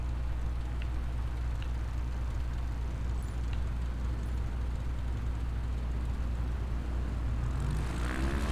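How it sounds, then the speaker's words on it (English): Airplane taking off in Microsoft Flight Simulator from Ford Island, a steady, loud engine drone that holds without a break throughout, with a rising whine creeping in toward the end. "taking off from this airport is going to be fun."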